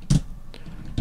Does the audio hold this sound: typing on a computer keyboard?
yes